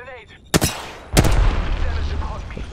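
Two sharp, loud gunshots in Apex Legends about half a second apart, the second followed by a rumbling tail, with a voice faintly present.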